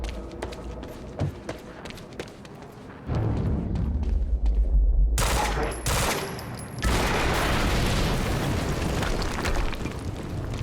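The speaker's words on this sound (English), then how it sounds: "we just heard an explosion near the harvesting perimeter" Explosions and bursts of gunfire in the video game Quantum Break, with loud blasts and rattling shots building midway and staying intense to the end, heard alone without talk.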